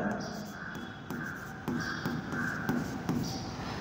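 Chalk or marker scratching out figures on a classroom board in short repeated strokes, close and fairly clear, over a quiet room with a steady hum.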